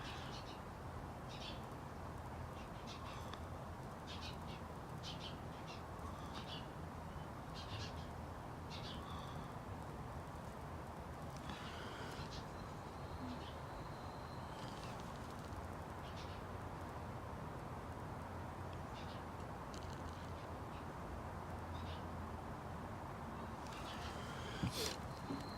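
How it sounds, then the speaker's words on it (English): Birds call outdoors during a rock painting session, faint scattered chirps and caws over a constant hiss of background noise, fairly distant and low in level. "And now the birds have came back and they're really kicking up a storm."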